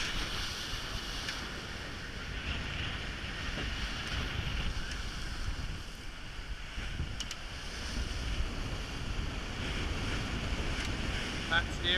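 Racing yacht surfing at about 18-20 knots through Southern Ocean waves in the Clipper Race, with steady rushing water and wind buffeting the microphone throughout, plus faint voices at times.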